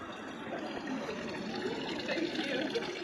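Water trickles and splashes continuously in a small pond at a Buddhist hell-themed site, a steady, moderately loud wash with no talk.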